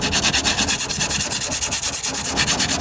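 Bondo body filler on a 1998 Ford Ranger tailgate rust repair sanded by hand with coarse 40 grit sandpaper, loud rhythmic back-and-forth scratchy strokes at a quick steady pace, close up.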